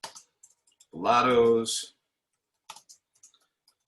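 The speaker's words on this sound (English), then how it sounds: "I'm going to start to type" Sparse clicks of typing on a computer keyboard tap lightly before and after a single spoken word, quiet and close.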